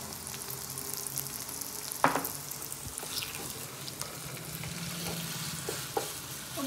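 Ginger garlic paste sizzles and fries in a pan for mutton curry, a steady close crackle with a sharp stirring clatter near the two-second mark and a few smaller scrapes, no voices.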